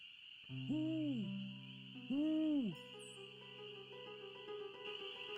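An owl, a Strixvaria, hoots twice in a night scene of the Nancy Drew game Ghost Dogs of Moon Lake: two wavering, drawn-out calls over a steady high insect-like drone and soft background tones.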